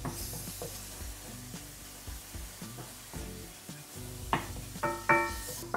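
Garlic, turmeric powder and pepper frying in a pan while being stirred: a continuous close sizzle with repeated knocks and scrapes of the utensil against the pan, growing busier toward the end.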